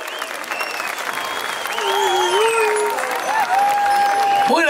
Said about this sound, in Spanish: ¿Qué tal si le damos un gran aplauso al Grupo Alegría?